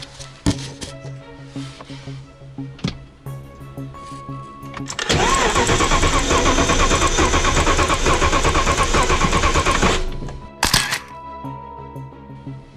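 A cold car engine undergoing a compression test roars loudly for about five seconds with the gas pedal pressed, then cuts off abruptly, framed by quieter clicks and handling noises.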